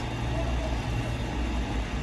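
A race car engine idles steadily with a deep, even rumble and no revving, close and loud throughout.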